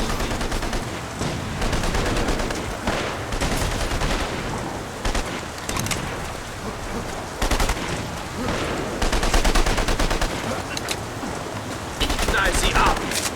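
Near-continuous gunfire in The Saboteur, a World War II action game: dense bursts of automatic and single shots crackle throughout, loud and close, with brief lulls, under a busy backdrop of game effects and distant shouting.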